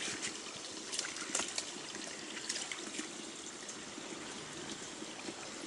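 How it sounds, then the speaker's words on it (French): A small stream trickles beneath a leaf-covered footbridge in an autumn forest, a soft continuous gurgle close by, with no voices. "il y a un petit ruisseau qui passe"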